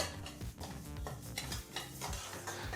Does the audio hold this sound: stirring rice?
yes